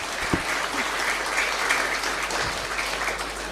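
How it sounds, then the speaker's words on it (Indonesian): An audience at an Islamic women's jurisprudence lecture applauds steadily for the speaker, a continuous moderate wash of clapping from a crowd, heard alone without talk. "Oke, boleh beri tepuk tangan sekali lagi untuk Ning Sheila."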